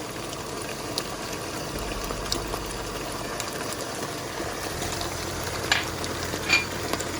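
Stir-fry noodles with vegetables and a cornstarch-thickened sauce sizzle steadily in a hot pan as oyster sauce goes in, a continuous even hiss with a couple of brief louder bursts near the end.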